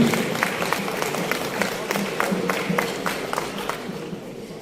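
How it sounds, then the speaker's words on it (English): An audience at a dignitaries' event celebrating Brazil's independence applauds, a dense, even clapping spread across the room, moderately loud and sustained with a faint crowd murmur underneath. "Please give him a resounding round of applause."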